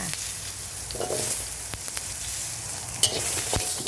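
Chili, garlic and shallots fry in oil over low heat with a steady close sizzle, a few sharp utensil clinks breaking through near the end.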